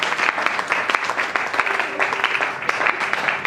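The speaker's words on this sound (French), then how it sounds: "On acclame encore pour la parole de Dieu." Church congregation applauding and cheering, dense sustained clapping from a large crowd that stays loud throughout.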